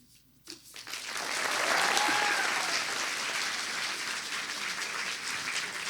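Applause from an audience at a speech competition final in Montpellier swells quickly and holds as a dense, sustained clapping across the hall.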